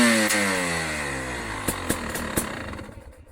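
A two-stroke motorcycle engine revs and then winds down, a loud buzzing tone that falls steadily in pitch, with a few sharp pops and crackles as it fades toward idle.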